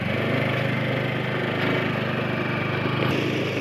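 An old motorbike engine chugs steadily nearby, a continuous mid-pitched putter that holds an even level throughout without revving.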